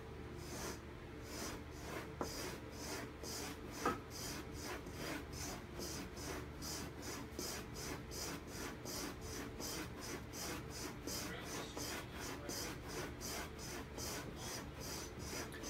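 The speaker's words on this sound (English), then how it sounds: "you're gonna take your strop, and this is a felt, and you're gonna run your razor back." Straight razor stroked back and forth along a felt strop with no pressure, giving a steady rhythmic series of soft rasping swipes, close and even throughout with no talking.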